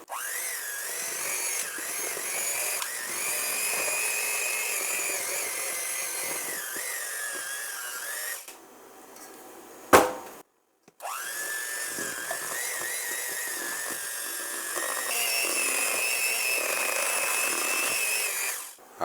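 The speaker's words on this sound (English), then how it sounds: "We're going to mix that together till there's no more clumps." An electric mixer beats softened cream cheese with powdered sugar, giving a steady high whirring drone that runs for about eight seconds, stops with a short clunk, then starts again and continues to the end.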